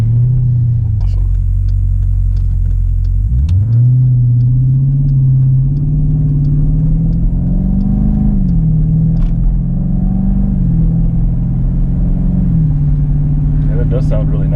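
A Jeep SRT fitted with an aFe Power exhaust, a deep, loud rumble from the rear that rises and falls as it pulls away and cruises, with people chatting inside the cabin over the engine.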